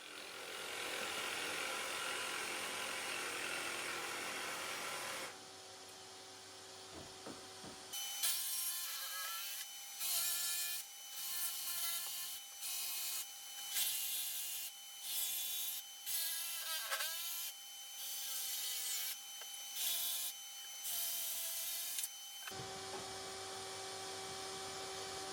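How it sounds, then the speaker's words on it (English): A power jigsaw buzzes through a kitchen worktop in repeated bursts with brief pauses, making cutouts, while a vacuum cleaner roars steadily underneath collecting dust. "time to make the cutouts with the jigsaw. I've got a vacuum cleaner on top trying to collect the dust."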